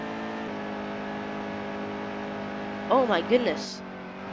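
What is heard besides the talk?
race car engine at Pocono, from the video game NASCAR Heat 2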